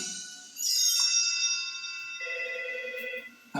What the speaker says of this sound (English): A few minutes later, the phone rang.